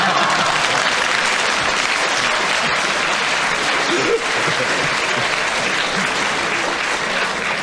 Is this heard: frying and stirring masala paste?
no